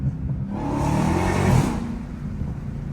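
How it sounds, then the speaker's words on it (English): A Dodge Hellcat Redeye with a mid-muffler delete accelerates hard, its engine swelling into a loud, rising roar for about a second before easing back to a lower rumble. "my car sound like extremely loud just to have a mid-muffler delete"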